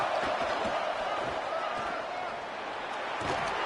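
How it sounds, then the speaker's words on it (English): A football stadium crowd roars at a college game involving Florida State, a dense, steady wall of cheering that holds loud throughout, with a brief dip and then swelling again. "this crowd is turning it up a notch"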